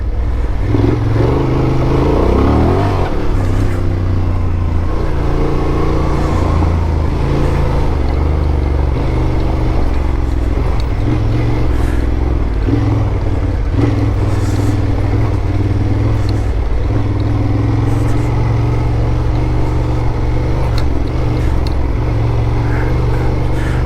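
A Honda Transalp motorcycle riding on dirt trails in Idaho, its engine droning loud and steady throughout with rough, rumbling clatter and small rises in pitch as the throttle varies.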